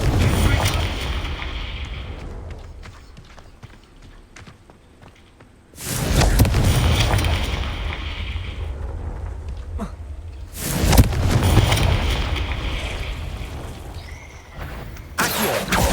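Confringo blasts from Hogwarts Legacy erupt in three heavy booms, each followed by a long rumbling decay, loud and close against a quieter game backdrop.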